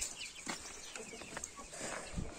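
Young chickens outdoors in snow give soft clucks and short peeping calls, scattered and fairly faint against quiet outdoor background noise.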